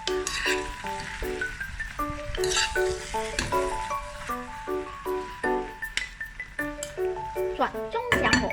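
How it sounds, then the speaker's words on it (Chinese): Marinated pork sizzles in a wok over high heat, with a steady fry hiss beneath repeated clinking stirs of a utensil against the pan and a voice talking over the cooking. "直接倒入腌制好的猪肉，让大火煮一煮"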